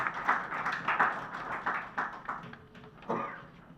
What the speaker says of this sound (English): Could I have a round of applause for our eminent panelists?